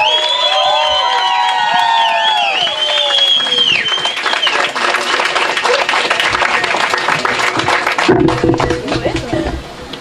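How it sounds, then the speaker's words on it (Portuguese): Wedding guests at an outdoor beach ceremony at sunset break into loud, sustained applause with some cheering, building and continuing for several seconds after a voice speaks over the opening. "Vou pedir para todo mundo uma salva de palmas"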